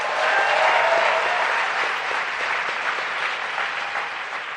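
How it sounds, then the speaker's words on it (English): Sustained audience applause at a large conference plenary, a dense steady wash of clapping from many hands that fades slightly toward the end, with no voices over it. "Let's give them another round of applause"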